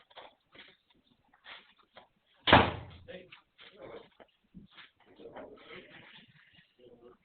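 A door slams shut in a room with one sudden, loud bang that rings out briefly amid scattered, quiet conversation.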